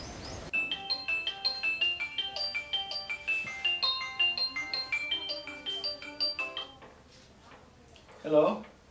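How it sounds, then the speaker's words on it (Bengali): Mobile phone ringtone playing a repeated bright melodic tune for several seconds, fairly close, ending before a short burst of talk. "প্লিজ ফোনটা ধরো।"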